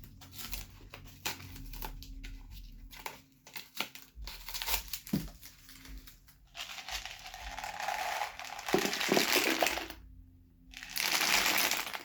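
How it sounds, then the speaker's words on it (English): Dried beans tumbling through a homemade shaker packed with toothpicks, giving bursts of dry rattling and pattering that start, stop and swell again, close up with quiet gaps between the pours. "it's hitting all the different toothpicks on the way down"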